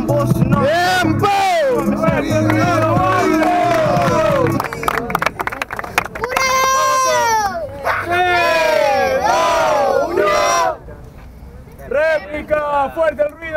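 A crowd at a rap battle tournament roars, shouts and cheers loudly and almost without pause, with bursts of clapping and yelling voices rising over one another.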